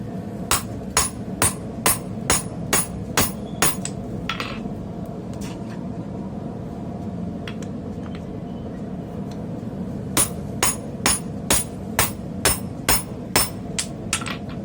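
Hammer blows on hard steel while forging blacksmith tongs, two quick rhythmic bursts of about eight sharp ringing strikes each, separated by a pause filled with steady low workshop hum.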